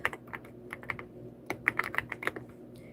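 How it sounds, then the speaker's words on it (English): Fingers type quickly on a computer keyboard during a live stream, giving irregular bursts of crisp, close key clicks with short pauses and no talking. "I'm typing these lines."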